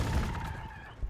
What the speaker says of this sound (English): We have a ranged unit. Let's fire at these.